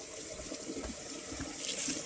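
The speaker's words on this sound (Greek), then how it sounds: "Αυτή είναι η βρύση του Νίκα" Water running from an outdoor village tap on a hiking trail in the Taygetos mountains, a steady close splashing gush with a faint trickle underneath.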